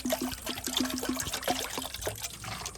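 Water trickles and splashes into a container while a sock is being washed, a close, uneven series of small pours and drips.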